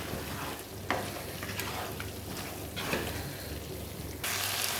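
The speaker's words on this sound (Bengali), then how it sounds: "এবার এই মাংসের মধ্যে যে আলুগুলো ভেজে রেখেছি সেই আলুটা দিয়ে দেবো আর এই চর্বিটাও দিয়ে দেবো দিয়ে ভালো করে মিশিয়ে দেবো" Fried potatoes and fat being stirred into mutton in a hot pan, a continuous close sizzle broken by several scraping strokes of a spoon against the pan.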